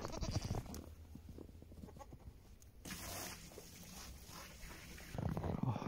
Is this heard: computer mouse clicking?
no